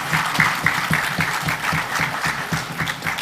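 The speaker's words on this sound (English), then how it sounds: "Could we give them all a round of applause?" A crowd gathered in a church for a teen honors ceremony in St. Kitts and Nevis claps loudly and steadily, with a rhythmic pulse of near hands within a full, sustained round of applause.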